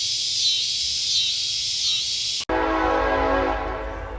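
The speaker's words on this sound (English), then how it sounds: "So I just heard the train" A train passes near Zion Cemetery in Memphis, Tennessee, its steady rail rumble first joined by high crickets, then after an abrupt break a dense broadband roar of rolling cars continues close and loud, with no talking.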